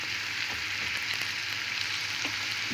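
Chicken gizzards and mushrooms frying in a pan send up a steady, loud, close sizzle with faint crackles and no pause.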